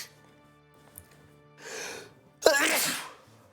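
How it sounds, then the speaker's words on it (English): A single loud sneeze from a voice actor with allergies: a short breathy inhale, a brief pause, then a sharp explosive burst that trails off, close to the mic and otherwise quiet. "Oh, I'm gonna sneeze."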